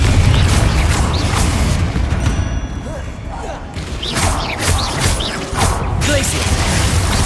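The Confringo blasting spell cast in Hogwarts Legacy: dense crackling bursts and thumps of magic impacts and debris in steady loud game combat, with repeated blasts over several seconds.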